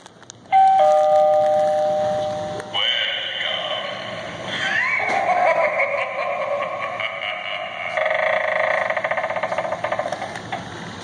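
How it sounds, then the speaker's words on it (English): A Gemmy animated Halloween doorbell prop: an electronic doorbell chime rings, then a warbling, synthetic spooky sound effect plays for several seconds, loud and close, with no talking. "then there's the Gemmy doorbell here."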